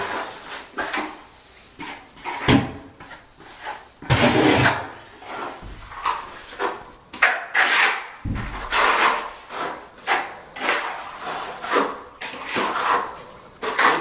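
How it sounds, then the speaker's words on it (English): A trowel drags thinset mortar across a floor over the edge of a WarmTiles Elite heating mat, producing repeated close scraping and smearing strokes with occasional knocks. "I can trowel right over the edge and still get a nice transition to the rest of my floor"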